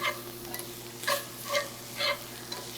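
Onions sizzle steadily in a pan for Salisbury steak gravy, with a soft continuous fry under several distinct scraping stirs about every half second, close and moderately loud.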